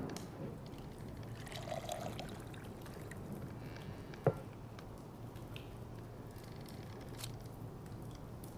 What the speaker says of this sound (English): I need to pour some water and put...